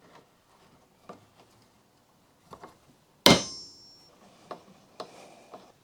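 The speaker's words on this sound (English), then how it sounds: "carefully slide it over the wiper arm, and screw it down until it pops" Mazda Miata NB2 wiper arm pops off under a screw puller with a single sharp, loud crack, preceded by a few faint clicks and taps of the tool and followed by light ticks.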